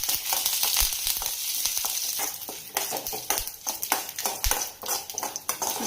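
Mustard seeds, curry leaves and chillies frying in hot oil for a banana flower tambuli, a steady crackling sizzle with dense popping spatters throughout, close and fairly loud, with no voices.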